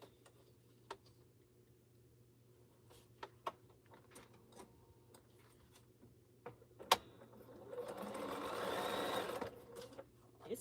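Quilting sewing machine making its first stitches on a T-shirt quilt, scattered ticks and clicks giving way to a brief steady mechanical whir near the end, fairly faint.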